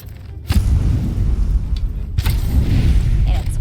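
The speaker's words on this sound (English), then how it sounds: "Somebody's shooting." Gunfire in a video game during a livestream, heard as loud booming low thuds, with sharp reports near 0.5 and 2.2 seconds over a continuous rumbling game background.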